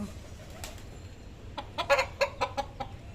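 A hen on a rooftop clucks in a quick burst of several close, loud notes after a quieter lead-in, with faint background noise and no talk.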